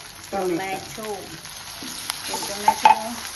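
Chopped onions and tomato sizzle and fry in a pan while being stirred for a mint rice dish, a soft steady crackle with a brief voice speaking over it and a few sharp clinks.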